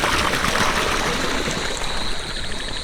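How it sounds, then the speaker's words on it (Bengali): Water running downhill in a stream at a rainy-night fishing spot, a steady rushing trickle and gurgle close by, continuous throughout with no voices. "থেকে নিচে একটা পানি নামতেছে"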